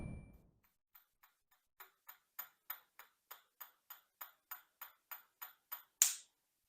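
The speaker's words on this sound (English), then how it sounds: "I use a spoon to lightly tap on the fat end until you hear a snap" About fifteen light, evenly spaced taps of a spoon on the fat end of a boiled egg, quiet and close, ending in one sharper, louder snap of the membrane separating.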